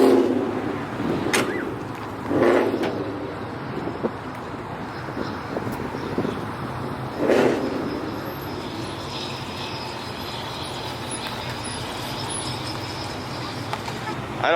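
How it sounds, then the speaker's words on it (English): A line of cars, including Mustangs, rolls into a South Texas car show, with passing engine swells and tire noise rising and fading against steady outdoor background hum. "There's a line of cars coming in."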